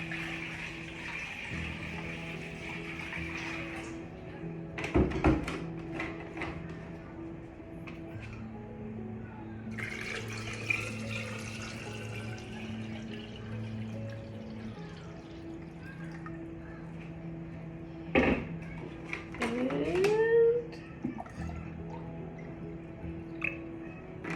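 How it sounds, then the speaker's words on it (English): Water poured into a container of eggs being preserved in water glass trickles and splashes in short bursts, with scattered drips and clinks between the pours. "I'm just gonna pour some more water in here"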